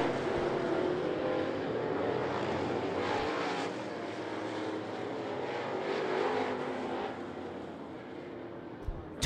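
Crate late model race cars running a heat race at I-75 Raceway, a continuous roar of engines heard from a distance that swells and fades slightly as the field circles the track.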